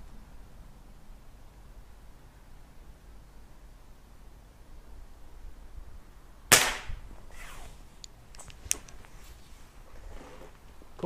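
A Reximex Mito air rifle fires a single Ely 10X pellet at a target card outdoors, giving one sharp, loud crack at mid-clip followed by faint handling noises and small clicks, with no talking.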